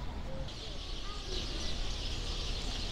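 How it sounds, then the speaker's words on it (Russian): Many small birds chirp and twitter in a busy city square in central Antalya, Turkey, a steady high chatter over a constant murmur of distant crowd and street noise. "Сколько тут птичек!"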